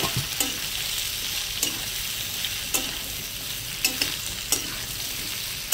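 Fried kohlrabi sautéed in a pan sizzles steadily while a spoon stirs and scrapes it, with regular scraping strokes about once a second over a constant hiss.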